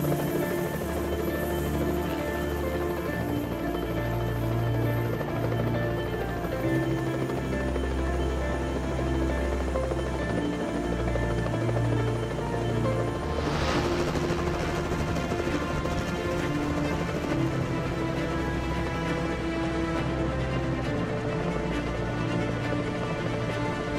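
Helicopter flying over the Hudson Bay lowlands on a goose hunting trip, a loud continuous rotor thump and engine drone heard from inside, steady throughout with a brief rising whoosh midway.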